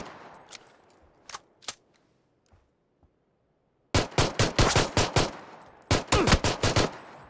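Gunfire in a PUBG custom match: a few scattered shots with echoing tails and quiet gaps, then loud rapid automatic bursts rattling off in quick strings.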